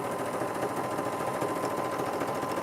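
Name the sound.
sewing machine stitching a seam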